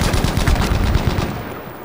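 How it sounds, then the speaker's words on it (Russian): Rapid machine-gun fire rattles loudly behind the player in Battlefield V Firestorm, a dense burst of close shots that tapers off after about a second and a half. "сзади кто у меня стрельнул?"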